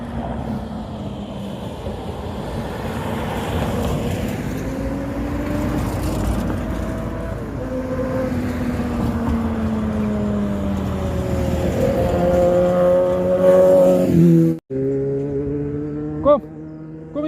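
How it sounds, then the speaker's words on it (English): A motorbike rides in along a town street by an estuary, its engine note rising and shifting as it draws nearer and passes close, loud against outdoor background. "Listen at this motorbike coming in here."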